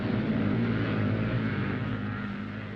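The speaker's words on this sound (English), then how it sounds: "Engines scream as they roar up the banks." Scrambling motorcycle engines from the 1960s roar up the banks of an off-road course, a loud, sustained droning growl that fades slightly toward the end, with no voices.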